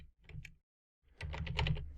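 Quick clicks of typing on a computer keyboard, close and clear: a short cluster of keystrokes, a pause of silence, then a denser, louder run of key presses.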